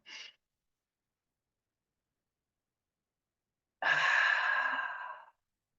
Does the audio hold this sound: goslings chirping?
no